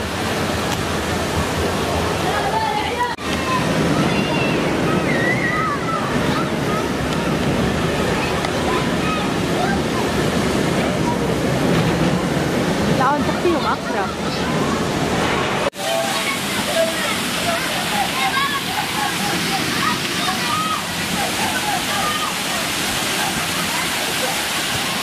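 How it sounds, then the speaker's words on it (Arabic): Water rushes and sloshes steadily along an artificial river at a water park, a loud continuous broadband roar with splashing detail throughout, under occasional talking. "هذا هون نهر."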